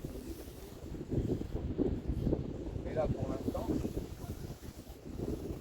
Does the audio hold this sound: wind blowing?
yes